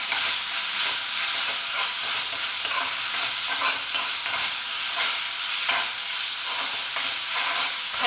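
Grated ginger and masala for chole fry in a pan with a steady, dense sizzle, stirred throughout with small scraping bursts; close and continuous, with no talking.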